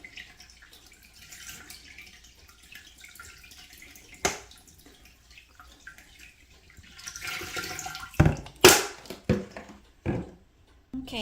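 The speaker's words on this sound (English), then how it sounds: "So just continue to fill your aquarium like that until you get completely full." Water poured into a home aquarium while filling a low-maintenance fish tank, a soft running trickle with drips that grows louder and splashier toward the end, close by with no talking.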